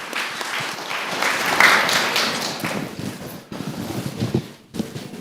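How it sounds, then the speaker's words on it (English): An audience at a community summit gives a round of applause, steady close clapping that swells and then trails off into scattered claps, with a faint voice briefly audible. "round of applause for you guys,"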